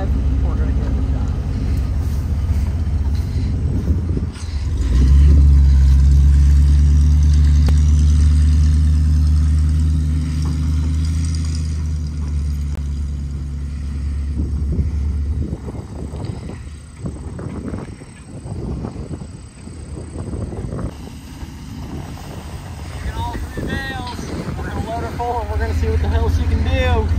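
A Ford F150 pickup in four-wheel drive rumbles along with a low steady engine drone and rattling bumps, loud and close, while people talk over it.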